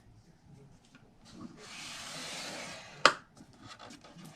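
Cardstock is pressed along a scoring board groove, giving a steady rubbing scrape of about a second and a half followed by a sharp click, alone with little else nearby.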